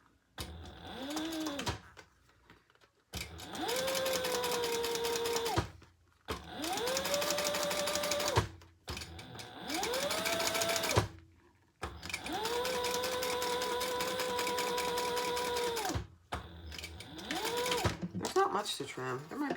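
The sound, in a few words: sewing machine top stitching a bag's side panel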